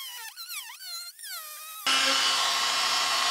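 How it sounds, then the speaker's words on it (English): A Worx oscillating tool cuts away a bit of wood: a wavering, rising-and-falling whine gives way to a loud, steady, dense buzz that carries through the second half. "It's an oscillating tool by Worx."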